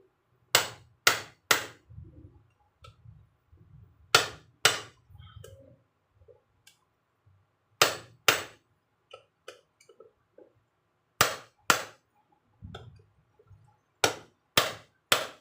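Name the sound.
hammering a Phillips screw on Yamaha RS100T motorcycle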